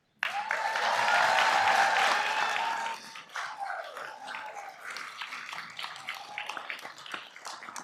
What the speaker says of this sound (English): give a round of applause to your amazing faculty, associate faculty, your family and friends